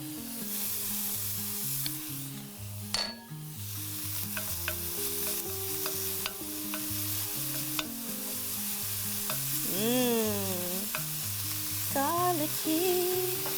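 A tablespoon of minced garlic sizzling and being stirred in a hot wok while cooking lamb and eggplant, steady frying hiss with scraping stirs and soft music underneath.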